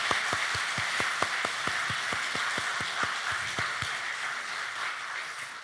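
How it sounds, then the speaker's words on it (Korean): An Easter Sunday church congregation applauds the choir after a cantata, a soft, broad patter of many hands in a sanctuary with one nearer person clapping sharply in a quick, steady rhythm for about four seconds. "우리 찬양대원들에게 다시금 격려의 박수 부탁드리겠습니다"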